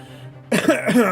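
A single close, harsh cough bursts out after a half-second of near silence, followed by a rough, throaty rasp as it trails off.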